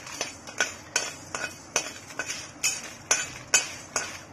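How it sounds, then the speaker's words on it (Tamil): Cardamom, cinnamon, cloves, coriander seeds and dried red chillies dry-roasting in a hot pan, stirred with a utensil: a brisk, even rhythm of close metallic scrapes and clinks, with no talking. "வானல் சூடாயிட்டப்பமா 4 ஏலக்காய், பட்டா, லவங்க எல்லாமே போட்டு வறுத்துக்கலாம்."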